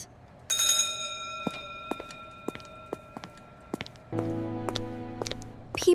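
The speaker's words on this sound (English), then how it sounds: "The bell is ringing. We should head back to class." A school bell ringing clearly with sustained metallic tones, heard twice, while footsteps tap steadily nearby in the hallway.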